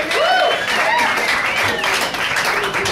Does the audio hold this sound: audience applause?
yes